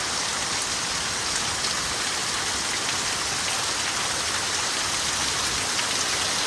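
Steady rain falls hard and constantly in windy weather outdoors by a buffalo shed, a thick continuous wash of noise with no pauses and no voices.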